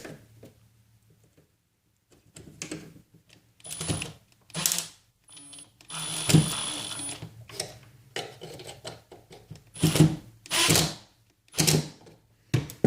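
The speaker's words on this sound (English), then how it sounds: "with thin stock, you can hear it cracked a little bit" Self-tapping screws driven into thin wood stock with a face frame jig, giving a series of short, separate clicks, creaks and cracking snaps spread over several seconds, fairly close with quiet gaps between them.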